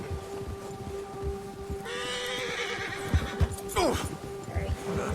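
In Red Dead Redemption 2, a horse lets out a loud whinny over steady clip-clopping hooves while the horse is being ridden. A constant background hum runs underneath.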